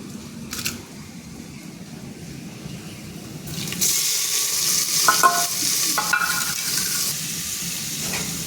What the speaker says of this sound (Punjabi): ਥੋੜੀ ਜਿਹੀ ਪਿਆਜ਼ ਆਪਾਂ ਇਹਦੇ ਵਿੱਚ ਪਾਵਾਂਗੇ ਪਹਿਲਾਂ ਭੁੰਨਾਂਗੇ